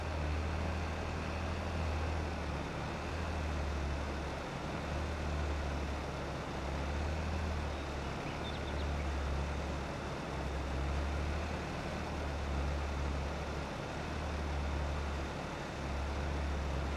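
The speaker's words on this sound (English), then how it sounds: "I was learning how to be quiet a little bit so that you guys can listen to the sounds of the tractor" Tractor engine in Farming Simulator 22 on a farm field, a steady low rumbling drone that runs continuously and fairly loud with a slight rhythmic pulsing, no talking over it.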